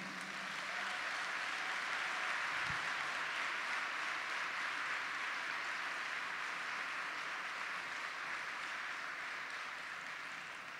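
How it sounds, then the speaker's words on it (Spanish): A church congregation at a 2022 Patagonian convention claps steadily for about eleven seconds, a smooth, even wash of applause heard from a distance at modest volume. "Denle un fuerte aplauso al Señor."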